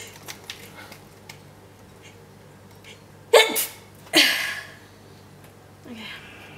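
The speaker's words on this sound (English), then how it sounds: "sneeze, sneeze." Two sharp, close sneezes a second apart, followed by a softer third burst, over a quiet room hum with faint breathing between them.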